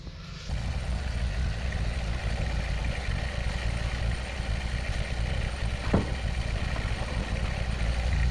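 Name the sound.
tractor engine running while positioning container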